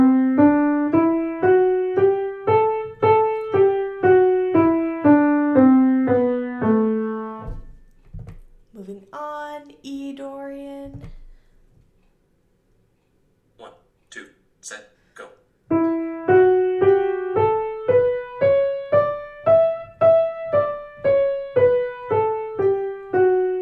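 An A Dorian scale played on a keyboard, with a run of evenly spaced notes rising and falling, a gap with scattered faint sounds and near silence, then a second clear ascending and descending run of notes.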